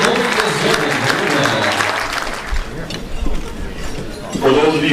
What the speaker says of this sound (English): let's give a nice round of applause for both of them